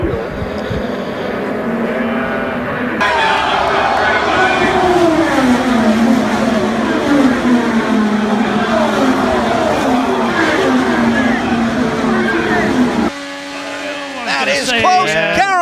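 A race car crashing at high speed during a rally race, the engine roaring and whining with shifting pitch, then a harsh scraping burst near the end, heard under a commentator's voice.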